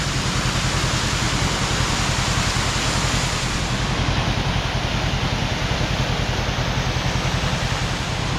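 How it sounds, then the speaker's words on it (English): Toadstool Falls in Arkansas, a large waterfall fed by a small stream, roars as a steady, dense, loud rush of falling water that stays unbroken and even, close by, with no voices. "Pretty crazy that little stream is making this huge freaking waterfall."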